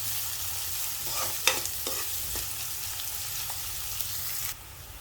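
Crumbled leftover chapati is sautéed in a pan, giving a steady close frying sizzle with a few scraping stirs and taps of the spoon, no voices over it.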